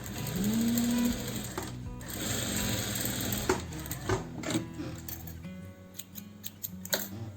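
A sewing machine runs steadily on folded fabric to stitch a tuck, whirring continuously and close, then giving way to scattered clicks and ticks as it slows and stops.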